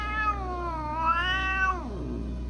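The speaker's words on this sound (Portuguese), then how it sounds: "o gato dele tá começando a ficar putaço" A cat named Octavio lets out one long, drawn-out angry meow, a loud wavering yowl that rises, holds and then slides downward, heard alone over a low steady hum.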